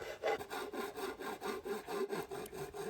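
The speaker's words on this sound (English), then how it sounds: "So I get my file out and start filing away to blend it in, try and make it a bit smoother" Metal file being worked by hand across the edge of a motorcycle front mudguard on a Norton Nemesis V8, a quiet, close rasping with even back-and-forth strokes at about four per second, heard alone.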